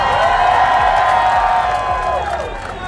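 Crowd in the stands cheering at a Formula Drift competition in Englishtown, a broad steady roar of voices with a high whistle-like tone running through it, holding strong and easing slightly toward the end.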